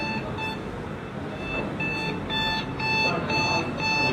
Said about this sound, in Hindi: अब जैसे ही मैं इस बाउंड्री के अंदर रहूँगा तो ये अलार्म जनरेट कर देगा।